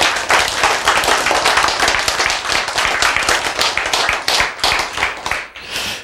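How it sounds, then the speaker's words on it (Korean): Close, loud audience clapping at a lecture, a fast, dense patter of many hands that carries on steadily for several seconds, with no voices over it. "여러분이 박수를 이렇게 찌질하게 쳐가지고 안 돼."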